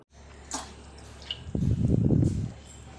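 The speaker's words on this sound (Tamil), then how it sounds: "இப்போ ஜவ்வரிசியை வேக வைக்கிறதுக்கு ஒரு பாத்திரத்தில் தண்ணி ஊற்றிக்கலாங்க" Water poured into a cooking pot to boil sago, a brief dripping touch first and then a steady gushing splash building from about halfway through, close by and moderately loud with no talk.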